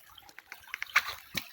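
Water trickles and splashes from a pipe of a barangay water system, a faint, irregular run of small drips and spatters with a couple of brighter splashes near the end, no voices over it.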